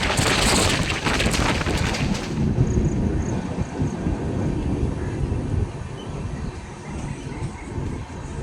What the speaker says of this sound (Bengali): এখন আমাদের ট্রেন একটু স্লো মোশনে ক্রস করছে রূপসা জংশন স্টেশন